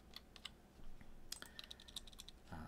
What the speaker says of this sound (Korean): 컨트롤 백틱을 눌러서